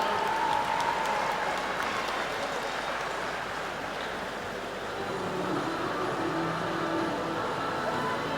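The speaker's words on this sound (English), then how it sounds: "Let's give a big round of applause." Audience applause at a New Zealand short course swimming championship, a steady broad wash of clapping filling an echoing pool hall for the whole stretch, fairly loud and continuous.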